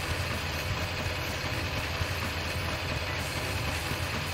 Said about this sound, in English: I would very much like that rattling to stop now, thank you.